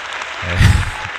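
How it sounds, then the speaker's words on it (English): A short burst of canned cheering and applause from a sound-effect button on a live stream, swelling to a brief peak and then fading, heard alone with no talking. "I don't know why I pressed the cheer button there"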